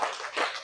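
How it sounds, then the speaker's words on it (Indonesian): A group claps hands together in a short, dense burst of applause, close and moderately loud, without any talk over it. "Tepuk tangan untuk kita semua"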